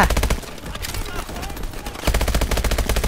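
Rapid automatic gunfire in Call of Duty Advanced Warfare, loud, steady bursts of close shots with a brief lull in the middle before the firing resumes.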